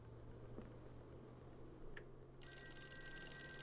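A telephone starts ringing partway through, a steady electronic trill of layered tones over a low background hum, fairly close and with no talking.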